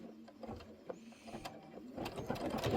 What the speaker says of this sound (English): go ahead and do the satin stitch around the stem